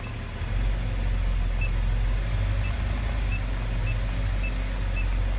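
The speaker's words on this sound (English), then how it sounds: "I don't know if you guys can hear my Jeep actually." A Jeep engine idles steadily at close range, a low continuous rumble with no talk, while faint high beeps chirp at intervals over it.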